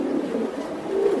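Pigeons coo in low, soft, repeated murmuring calls, close and steady throughout, with no talking over them.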